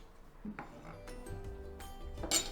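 Knife work on a board while preparing ingredients for solyanka, a meaty soup: a few scattered soft cuts and light clinks of kitchenware, fairly quiet and close, with no talking.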